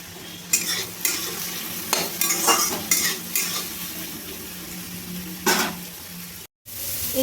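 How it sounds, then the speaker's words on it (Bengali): Capsicum and onion frying in a pan with salt, stirred by hand: steady close sizzle under repeated scraping strokes of a spoon against the pan, a few sharper clatters, then a brief cut near the end. "নুন দিয়ে ভালো করে আমি ভেজে নেব"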